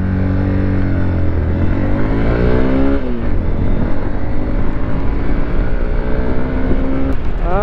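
A Hero Xpulse 200 motorcycle accelerates hard down a straight toward top speed, its engine note climbing steadily through the gears with a shift partway through. The loud, close engine runs alone throughout.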